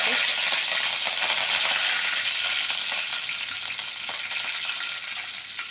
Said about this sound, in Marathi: आपली मोहरी तडतडली